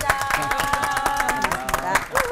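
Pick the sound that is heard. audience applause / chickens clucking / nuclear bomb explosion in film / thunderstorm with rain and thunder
audience applause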